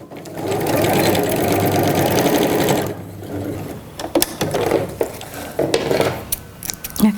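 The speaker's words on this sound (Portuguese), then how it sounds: "Vou fazer um retrocesso para eu poder firmar mais." A sewing machine backstitches on crystal plastic while a toiletry organizer is being made. It hums steadily and close for about three seconds, then stops, leaving scattered clicks and handling noises.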